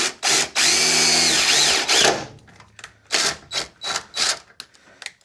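A power drill drives a self-tapping screw while a car fuel line is secured on a Dodge Diplomat, giving several short, loud whirring bursts with brief pauses, the first burst long and steady, later ones choppy.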